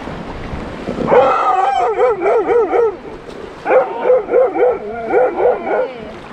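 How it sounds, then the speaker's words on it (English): A dog at a wilderness campsite in Canada gives two close, loud bursts of rhythmic yipping, whining barks separated by a short pause. "Don't you bark, Bella."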